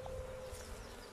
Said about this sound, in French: c'est les abeilles qui sont agglutinées les unes à côté des autres